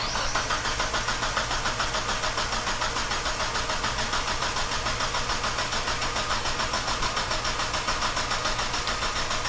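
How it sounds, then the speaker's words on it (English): A car engine cranks continuously for about ten seconds during a battery test, a steady, even whirring drone with no pauses and no voices. "Okay, Josh, turn the key, crank for 10 seconds"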